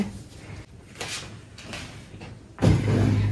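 A home dishwasher door is pushed shut after loading, a few soft knocks and slides followed by a firmer closing thud near the end, heard close up.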